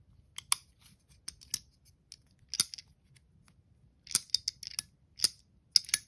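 A Spyderco Para 3 G10 clone folding knife is flipped open and snapped shut, giving sharp metallic clicks and snaps in irregular bursts with faint grindy bearing friction between them, close and alone.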